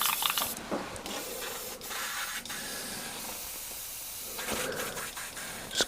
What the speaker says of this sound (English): Just going to give the micron a blast through before the next drop of paint.